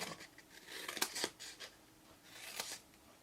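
Scissors snip through a sheet of cardstock while cutting a wedge out of a box template, giving a series of crisp, close cuts with a few louder bursts and quiet paper handling between them.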